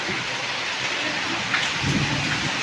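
Steady first-monsoon rain in the Konkan patters on surfaces while a low roll of thunder rumbles in toward the end.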